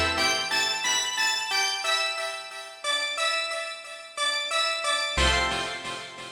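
Synth preset from the Polyscape Nova plugin, a bright layered pad with repeating plucked notes in a steady pattern, closing on a deep low swell, heard alone.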